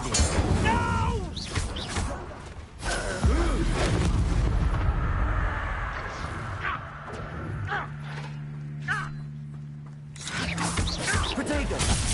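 Fire spell blasts during a Hogwarts Legacy wizard duel, heavy booming bursts with crackling roar, loud and close, several impacts spread across the fight with a quieter lull in the middle and voices shouting over them.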